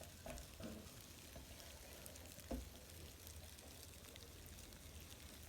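Silkworms feeding in a bowl, a faint continuous fizzy crackle like a carbonated drink, steady and soft with a couple of slightly louder ticks, no voices.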